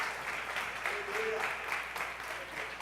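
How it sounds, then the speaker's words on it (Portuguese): Congregation applauding during a church worship service, a steady wash of many hands clapping at moderate distance with a faint voice running through it. "se aplaude e glorifique o nome do Senhor"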